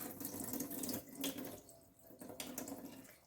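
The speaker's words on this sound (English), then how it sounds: "Let's go ahead and pour that water off." Water from a bowl of soaking red beans is poured off into a sink, a continuous close splashing rush with uneven surges and no talk.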